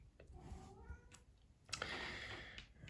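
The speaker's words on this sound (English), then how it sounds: "one of my cats is outside and wants to get inside" A house cat meows outdoors, wanting to be let in: a few faint, distant mewing calls with soft clicks and background noise.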